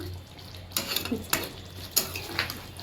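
Koi fish being turned and stirred in a pan, with a few distinct scraping clatters of a utensil against metal over a low background hiss, close and moderately loud.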